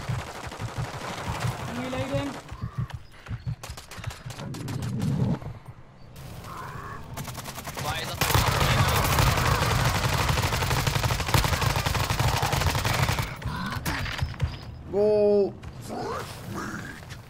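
Gunfire in the video game Warzone's zombie royale mode, rapid automatic bursts and scattered shots that come loud and then fade, mixed with game sounds and people talking over it.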